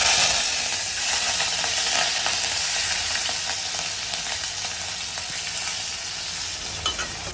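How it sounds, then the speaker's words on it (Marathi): Green chilies and onion fry in hot oil already seasoned with cumin, mustard seeds and asafoetida, giving a steady, loud sizzle that holds for the whole stretch and slowly eases a little, with faint stirring clicks near the end. "आता हिंग घालूया आणि आता हिरवी मिरची आणि कांदा घालायचा आहे."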